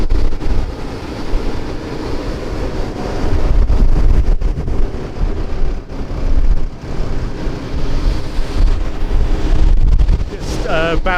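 Strong wind gusts across an open barley field at harvest time, buffeting the microphone in loud, uneven surges with a rumbling low roar, and a brief voice near the end.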